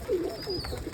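Pigeons being fed grain give soft, low coos, with one throaty coo near the start and a shorter one following, heard close and without talk.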